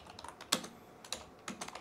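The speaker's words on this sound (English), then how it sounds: "terrible typing." Quick bursts of typing on a keyboard while sending a message to an iPhone, a close, uneven patter of key clicks with a few louder strikes and no talk.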